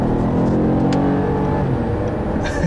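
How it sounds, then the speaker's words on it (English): A 2014 Acura RLX 3.5-liter V6 revs smoothly and steadily, a muted, continuous engine hum with rising harmonics heard from inside the car, with no talking. "the engine makes a very nice, smooth, muted sound"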